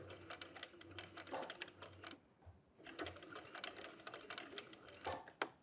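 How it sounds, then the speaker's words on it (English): Sewing machine stitching fabric pieces for a puzzle ball, a steady rapid mechanical chatter running in bursts with a short pause midway, then resuming, fairly quiet and close with no talk. "Bring it to the machine and sew about 3 stitches before doing a back stitch."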